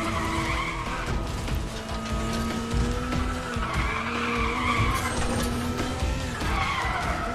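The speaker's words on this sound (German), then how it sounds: "weil es nur hier schön driften kann" Car drifting in Need for Speed: The Run, a continuous loud tire squeal and skid over a steady engine drone, sustained for several seconds with no voices.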